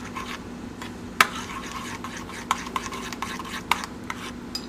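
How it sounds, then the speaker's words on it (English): A spoon stirs herbs into butter for a steak dish. It makes a soft continuous scraping and rubbing, with a few sharper clinks against the bowl, fairly quiet and close. "I'm just going to stir this around"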